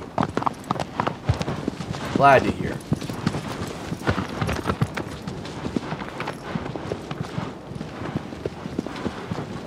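Horse hooves clip-clop in a steady run through Shadow of the Colossus, continuing under friendly talk, with a brief whinny partway through.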